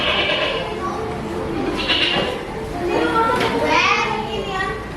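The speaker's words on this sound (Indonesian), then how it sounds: "Suara kambing." A goat bleats in several wavering calls, with children's voices and chatter mixed in around it.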